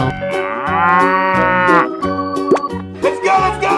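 Cartoonish cow in a 3D animal slide video game gives a long, loud, sustained moo, followed by a few shorter lowing bursts and plopping effects, with no talking.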